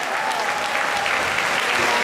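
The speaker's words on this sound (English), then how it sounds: "Come on, give a round of applause, please." A crowd applauds at a fight event, a dense, steady wash of clapping that holds at an even level for about two seconds.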